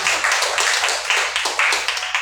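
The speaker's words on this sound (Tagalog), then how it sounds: "palakpak sa Panginoon." A church congregation clapping during a Sunday worship service, loud rhythmic hand claps in a steady beat filling the room, close and continuous with no voices over them.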